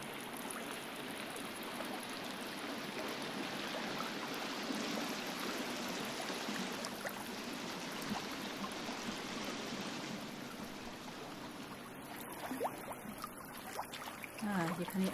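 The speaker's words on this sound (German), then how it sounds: "in Richtung Wasserfall gehen, oder was das ist." A waterfall flowing in the survival video game The Forest, a constant rushing wash of water with someone talking over it.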